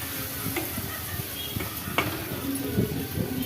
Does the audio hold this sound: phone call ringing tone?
no